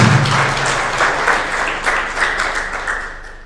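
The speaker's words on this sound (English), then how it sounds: "A clap for ourselves and for our coaches." Attendees at a Zambian SME conference clap together for themselves and their coaches, a loud, close, continuous patter of many hands lasting a few seconds before easing off.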